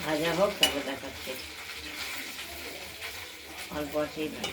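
Paneer cubes sizzle in hot oil in a kadai, with occasional scraping and clinks from stirring, while a voice speaks nearby at the start and again near the end.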